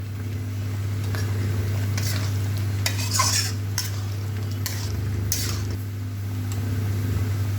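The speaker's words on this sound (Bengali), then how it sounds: "এখন আমি ভেজে রাখা ফুলকপিটা দিয়ে দেব।" Previously fried cauliflower drops into a hot pan for a cauliflower coriander curry and sizzles steadily, with spatula scrapes and stirring clinks recurring throughout under a low background hum.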